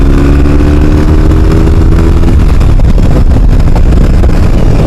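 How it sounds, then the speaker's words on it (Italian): A BMW R 18 Bagger motorcycle engine rumbles loudly and steadily while riding, a deep continuous drone with wind and road noise throughout, alone with no talk. "adesso ho abbassato del tutto la radio per farvi sentire un po' il motore"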